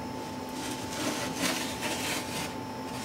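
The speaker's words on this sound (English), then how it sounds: "I'll just use the plane back here." A hand plane shaves down the high spots of wooden kerfing on a handmade guitar's side set, giving a steady close rasping scrape that swells and fades over about three seconds, heard alone.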